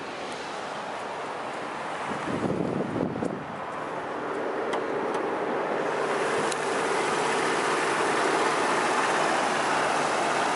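A 2006 Mercedes-Benz CLK 350 coupe idles outdoors, a steady low engine hum that settles in beneath heavy wind noise.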